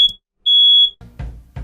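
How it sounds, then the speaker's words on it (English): A smoke alarm sounds in a home setting: a short piercing beep, a pause, then a longer sustained tone, followed by a couple of low thuds and knocks. "My alarm's going off."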